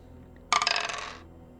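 Three dice rolled at a tabletop role-playing game session, a short clattering burst of hard rattles and clicks tumbling and settling over about half a second, close and clear with no talk.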